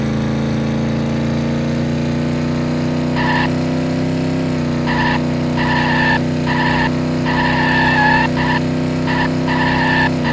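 A Tofaş car drifting in a Unity-built driving game, a steady droning engine tone with repeated short bursts of tire squeal cutting in and out in an irregular rhythm.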